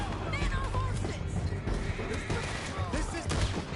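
Horses neigh and gallop amid a busy battle scene in Red Dead Redemption 2, hoofbeats and whinnies mixed with clatter and distant shots, with shouting voices over the top throughout.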